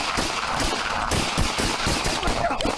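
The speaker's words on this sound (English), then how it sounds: "Shots fired still." Gunfire during an active shooter incident in Normal, Illinois, heard as a rapid string of loud, sharp shots in quick succession, nearby and dense like a fusillade.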